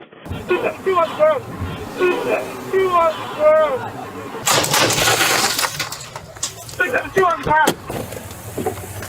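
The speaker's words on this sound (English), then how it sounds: "Shots fired!" Gunfire erupts during a police foot pursuit that follows a high-speed chase: a loud, sharp broadband crack near the middle, then a few brief sharp hits later on, with urgent shouting voices before and after.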